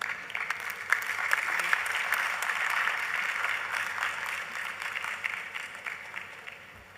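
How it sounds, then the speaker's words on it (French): Audience applause for speaker Seydina at the ICASA 2025 conference: dense, steady clapping from a large crowd, sustained throughout with no voices over it. "Un autre lot d'applaudissements pour Seydina, s'il vous plaît."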